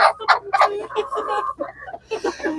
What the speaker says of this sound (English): I'm gonna show you a hen